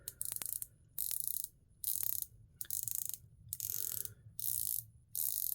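Pagani Design PD1784 watch's 120-click unidirectional bezel being turned, seven quick bursts of fine, tight clicking separated by short pauses, close and fairly quiet with no talk.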